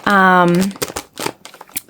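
Someone handles a pack of number 3 nylon coil zippers, 72 yards in 24 colors, producing close, crinkly plastic rustles in quick bursts after a brief voiced tone at the start.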